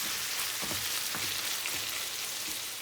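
Butternut squash puree hitting hot ghee in a pan for halwa, giving a dense, continuous close sizzle with a few soft low bumps, no talking.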